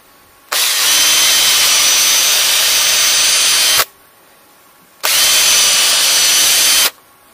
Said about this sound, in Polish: Trzeba na uchwyt to nawiercić i grubsze wkręty dać, dłuższe.